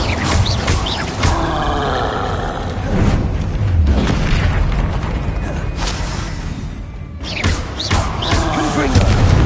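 An Incendio fire spell in Hogwarts Legacy erupts in repeated loud whooshing, booming bursts with thuds between them. Combat effects pile up across the stretch, and a voice speaks over parts of it.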